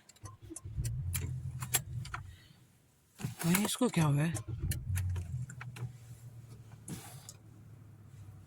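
A car engine cranks and catches, then settles into a low steady idle. Keys jangle and a seat is adjusted first, and someone talks over parts of it.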